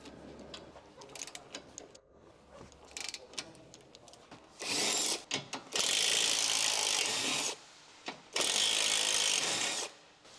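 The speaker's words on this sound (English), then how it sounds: "Use a 17mm socket to remove the connection between the lower control arm and the ball joint nut." A 17mm socket ratchet works a ball joint nut loose from a Honda Civic lower control arm, with quick clicking pawl bursts followed by two long, loud, steady ratcheting runs, all close up.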